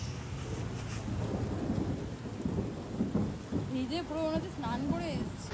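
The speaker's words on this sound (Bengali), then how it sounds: "এত জোরে বৃষ্টি হচ্ছে" Heavy rain pours steadily with rumbles of thunder underneath, while a person talks over the downpour.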